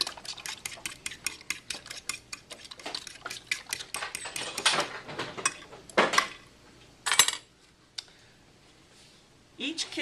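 Egg yolk, egg white and cinnamon get whisked in a bowl, with quick clicking scrapes of a utensil against the sides in fast bursts. A few louder knocks and pauses come toward the end.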